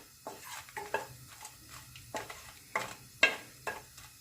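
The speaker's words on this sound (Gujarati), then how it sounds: "તેલમાં આપણે આ સૂકા મરચાંને સાતળી લઈશું।" Dried red chillies fry in about a spoonful of oil in a kadai, with a soft sizzle broken by repeated scraping and stirring clinks of a utensil against the pan.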